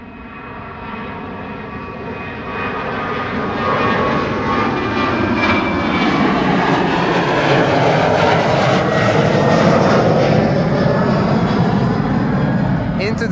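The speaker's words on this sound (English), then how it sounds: "there's a Ireland CRJ. It's coming from the taxi from the Kaagbaan" An Irish CRJ regional jet at Amsterdam Schiphol near the Kaagbaan runway makes a broad jet roar that swells over the first few seconds, then holds loud and close to the end.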